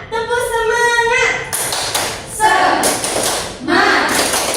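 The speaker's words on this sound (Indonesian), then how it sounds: "Nah, semuanya mari kita tepuk semangat." A school class doing a rhythmic spirit clap, a sung call from a voice followed by three loud bursts of group clapping mixed with children's voices, close and lively.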